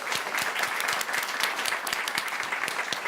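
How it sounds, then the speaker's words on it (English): An audience at a Brazil and COP30 panel event claps in sustained, even applause, many hands at once with a few sharper nearby claps cutting through. "Let's give them a round of applause."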